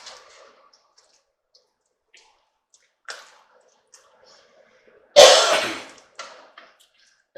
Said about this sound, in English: we're going to give this a good stir